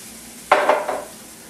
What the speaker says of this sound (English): this skillet's really hot now, and this one's going to cook obviously a little bit faster